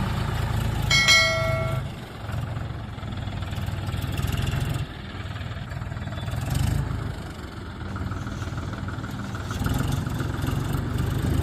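A mini tractor pulls an overloaded trolley, its engine giving a steady loud chugging drone throughout, with a brief metallic ringing early on and rattling over the rumble.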